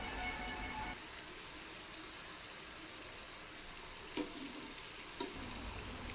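Murukku frying in hot oil gives a steady, even sizzle throughout, with two brief clicks from turning them near the end. No one speaks.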